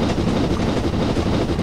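Train rolling along the track in Train Simulator 2012, a steady, loud broadband rumble with a faint rhythmic clatter running throughout, no voices over it.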